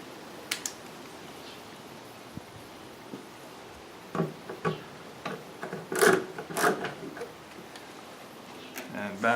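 A screwdriver drives three screws back into a cover during an ES65 install, making small scattered clicks and ticks that grow busier toward the end, close and fairly quiet, with no voices over them.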